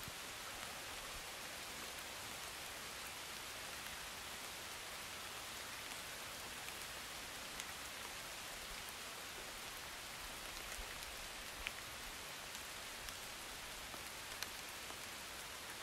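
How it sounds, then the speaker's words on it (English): Steady rain falls outdoors, an even, dense hiss of drops on surfaces that holds constant for the whole stretch, soft and broad with no voices. "It's raining."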